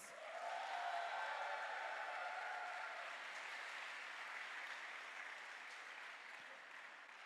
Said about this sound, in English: can we have have a huge round of applause for all our KG1 students